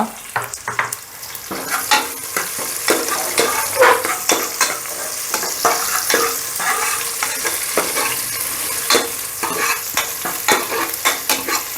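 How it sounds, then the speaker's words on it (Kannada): Onions sizzle and fry in a pan for a mutton dish while being stirred, with repeated scraping strokes over a steady hiss throughout. "ಈಗ ಈರುಳ್ಳಿ ಹಾಕ್ಕೊಳ್ತಾ ಇದ್ದೀನಿ ಅರ್ಧ"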